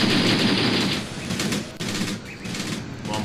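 Heavy gunfire crackles in a Graviteam Tactics battle against Soviet tanks in Angola, with dense overlapping machine-gun bursts and rifle shots forming a loud, continuous fusillade throughout.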